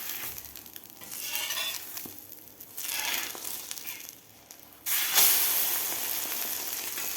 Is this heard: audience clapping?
no